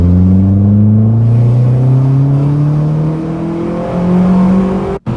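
Loud Peugeot S16 engine accelerating, heard close through an open car window, with a steady rising harmonic whine as revs climb over several seconds, then a brief cutout at the end.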